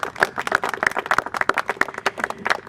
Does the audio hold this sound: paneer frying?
no